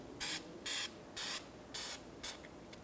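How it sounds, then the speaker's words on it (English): Five short bursts of aerosol anti-seize hiss onto the rear brake parts of a 2012-2019 Fiat 500, evenly spaced and close, each roughly a quarter second, with quiet between. "Put some anti-seize on this."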